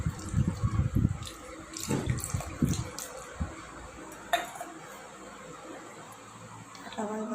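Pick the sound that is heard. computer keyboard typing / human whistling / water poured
water poured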